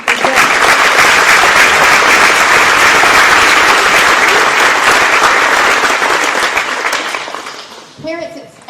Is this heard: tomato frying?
no